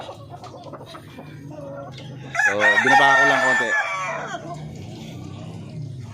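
Chickens cluck and squawk close by, with ducks nearby and a loud, drawn-out crowing call in the middle, while a person speaks briefly over the farmyard noise.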